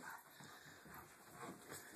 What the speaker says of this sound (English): All you do all day long is yap at me.